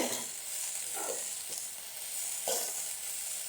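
Urad dal sautéing in a hot pan for mint chutney gives a steady close sizzle and hiss, with occasional soft scraping stirs breaking through.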